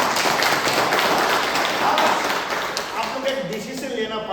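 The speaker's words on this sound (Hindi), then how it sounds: "जोर से ताली बजाएंगे।" A church congregation at an army church claps loudly during a Hindi sermon, making a dense, continuous wash of hand claps throughout that eases off slightly toward the end.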